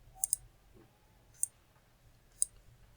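Computer mouse clicks in a quiet room: a quick double click, then two single clicks about a second apart, all close and crisp.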